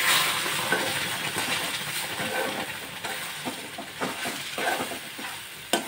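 Semolina is stirred continuously in a pan for sujir sandesh, giving a soft hissing sizzle with irregular scraping strokes. No voices.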